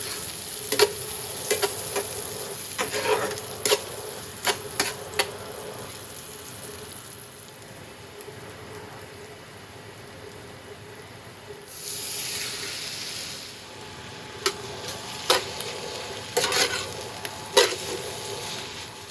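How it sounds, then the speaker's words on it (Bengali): Noodles cooking in a pot on a home stove, a steady low sizzle broken by sharp clicks and utensil taps, with a brief hissing surge of steam or water midway, close and without talk. "নুডলস রান্না করছি,"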